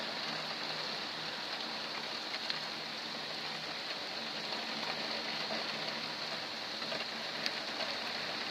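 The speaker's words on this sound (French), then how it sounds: "Voilà comment il pleut fort." Steady, dense rainfall in Lœuilly, France, in August hisses continuously with a broad wash of drops, even and unbroken throughout, close by and fairly loud.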